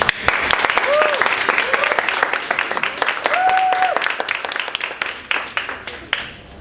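Audience applause at a speech evaluation session, steady dense clapping from a room of listeners for several seconds, with a voice speaking over it and the clapping tapering off toward the end.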